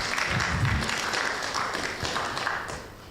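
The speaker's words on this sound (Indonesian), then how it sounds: "Berikan tepuk tangan buat Tuhan kita" A church congregation at an Ecclesia Mission service claps for God, giving scattered, moderately loud applause with some individual claps standing out. The clapping thins toward the end.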